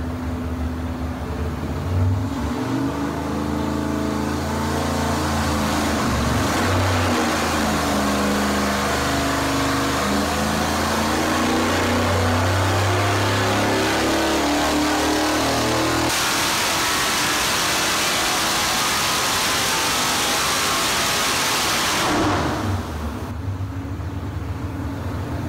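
Carbureted GM L99 4.3L V8 with a carb intake setup running on a test, a steady loud engine drone with shifting tones as revs rise and settle, and an abrupt change in character partway through before cutting back near the end.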